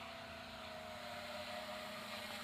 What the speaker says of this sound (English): see if I can't get it to hover in front of the camera